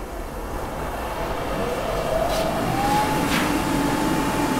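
A foundry furnace's gas burner and blower fan start up for casting a life-size sculpture: a steady, loud broadband roar with a whining tone that rises as the fan spins up, holding near and constant throughout.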